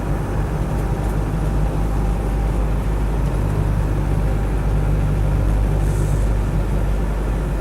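Land Rover Defender 110 with a 200TDi diesel climbing a hill in fifth gear, a steady loud low engine drone with road rumble, labouring evenly throughout with no talk.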